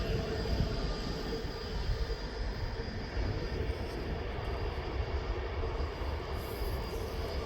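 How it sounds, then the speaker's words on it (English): A Ryanair jet taxiing at Birmingham Airport, heard as a continuous broad engine rumble and whine, steady and moderately distant, with no voices. "then we just got the Ryanair to Dublin. It's taxiing down."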